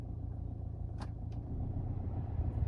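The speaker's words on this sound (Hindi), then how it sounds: "हल्का सा पता चलेगा आपको कि कंप्रेसर ऑन हो गए" Idling engine of a 1.2-litre petrol or 1.5-litre diesel car, a steady low rumble that rises slightly midway as the AC compressor switches on, with a couple of brief clicks above the drone.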